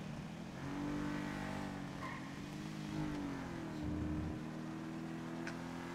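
A car accelerating in a video game, its engine note rising and shifting through gears at low volume, with faint tire noise and no voices.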